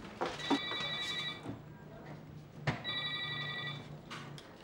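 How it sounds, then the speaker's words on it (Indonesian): A mobile phone rings with a repeating electronic tone in two bursts separated by a short gap, heard indoors at moderate distance. "Handphonenya bunyi, Bu."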